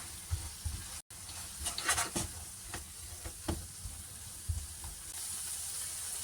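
Sake sizzles and boils off in a hot pan with unagi eel, a steady close frying hiss broken by scattered stirring scrapes and pops, with no voices.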